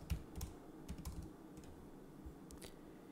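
Typing a command into a computer terminal on a keyboard: a run of close, crisp key clicks in irregular bursts with short pauses, alone over faint room noise.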